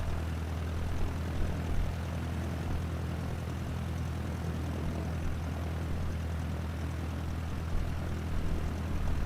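A propeller airplane taxis in Microsoft Flight Simulator, its engine giving a steady, even drone with a constant low hum that holds at one level for the whole stretch, with no talking.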